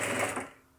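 A short burst of a sewing machine stitching a folded fabric hem for a face mask, the motor whirring close and fairly quiet before stopping.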